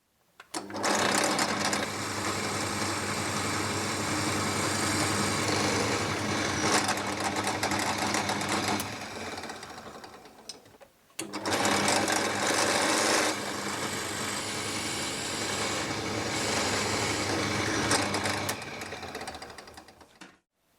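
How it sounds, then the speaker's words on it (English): A loud, steady electric drill whir boring into a guitar body runs for about ten seconds, stops briefly, then starts again for another long stretch with no voices. "Right, drill this out."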